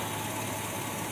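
A 2022 Toyota Fortuner engine idles steadily during an automatic transmission fluid check, a constant, even hum with no change in revs and no talking.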